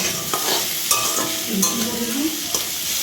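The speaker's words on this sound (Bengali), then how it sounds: "আলুটা ভেজে নিয়েছি তার সাথে একটু পেঁয়াজ দিয়ে দিয়েছি আর দিয়েছি কাঁচা লঙ্কা দিয়ে এটাকে এখন একটু ভাজা ভাজা করব" Potatoes, onion and green chilli fry steadily in a pan, with a continuous sizzle and repeated scraping stirs of a spatula, close and fairly loud, with no voices.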